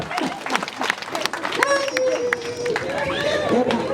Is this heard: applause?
yes